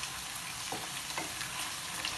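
Onion, bell pepper and peas frying in a pan with broad, steady sizzling, close up, with a couple of faint stirring scrapes and no talk.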